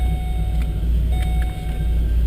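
Whipple supercharged Holden VE Maloo ute with a Turbo 400 transmission idling close by, a steady deep engine rumble with a faint high whine running evenly throughout.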